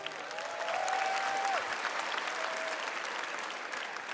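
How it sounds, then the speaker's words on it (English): Audience applause for contestants after the swimsuit competition at the Miss Universe 2016 pageant, a large crowd clapping in a dense, sustained roar, fairly distant, with a faint tone gliding through. "Let's give our contestants another round of applause."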